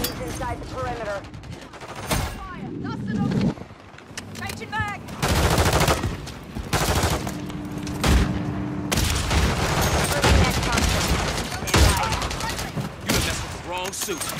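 Heavy automatic gunfire in a Call of Duty battle, dense overlapping bursts and volleys that run almost continuously, loud and close, with shouted voices and a low boom.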